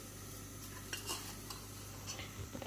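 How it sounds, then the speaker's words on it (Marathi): Coconut, curry leaves, onion, coriander, cinnamon, cloves, pepper, cumin and mustard seeds roasting in oil, with a steady low sizzle and occasional stirring scrapes against the pan, fairly quiet and close. "खोबरं, कढीलिंब, कांदा, कोथिंबीर, दालचिनी, लवंग, मिरे, जिरे, मोहरी सगळं तेलात भाजून घ्यायचं"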